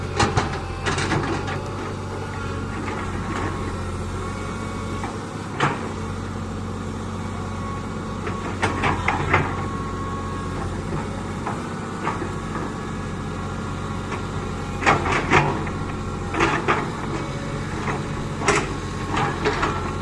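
A Komatsu PC200 series 5 excavator works outdoors clearing eucalyptus stumps, a steady low diesel rumble with hydraulic whine and repeated clanks and knocks of the bucket and arm, no voices.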